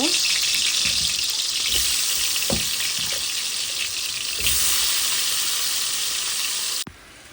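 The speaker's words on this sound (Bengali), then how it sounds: "আলুটা ভেজে নিচ্ছি" Potatoes coated in turmeric and salt fry in a pan with a steady, loud sizzle throughout, marked by a few clattering stirs, before the sizzle cuts off abruptly near the end.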